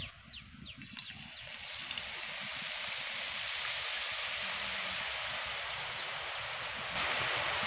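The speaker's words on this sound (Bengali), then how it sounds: "এবার ছান্তাই করে ঢেলে দেব।" Boondi batter drips through a slotted ladle into hot frying oil, producing a steady, dense sizzling hiss that swells after the first couple of seconds and carries on evenly throughout.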